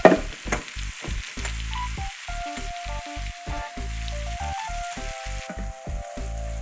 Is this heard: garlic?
yes